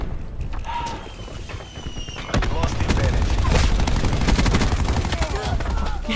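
Rapid gunfire in Black Ops 4, loud dense bursts at close range, with an occasional brief voice under the shooting.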